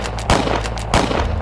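Gunshots in a Hindi audio story ring out as two sharp, loud pistol cracks about two-thirds of a second apart over a dense, steady background bed.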